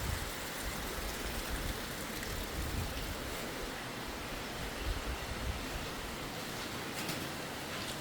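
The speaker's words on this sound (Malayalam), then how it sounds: "ഇവിടെ മഴയൊക്കെ ഇങ്ങനെ പെയ്ത് നോക്കുമ്പോൾ വളരെ ഭംഗിയാണ് ഇവിടെ കാണാൻ" Steady rain falls outside a bedroom with glass walls on two sides, overlooking cardamom plantations, heard as a soft, even hiss that continues without a break and with no one speaking.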